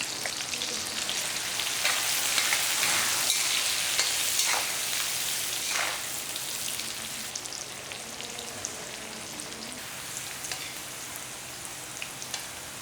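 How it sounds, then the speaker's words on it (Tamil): Bitter gourd fries in oil with a little salt, giving a dense, continuous sizzle with crackling pops, loud and close, with no voices. "இந்த பாவக்காய் வறுக்கும் போது என்ன பண்ணலாம் கொஞ்சமாக உப்பையும் இந்த எண்ணெயிலே போட்டு விட்டோம்னு வைங்களேன்"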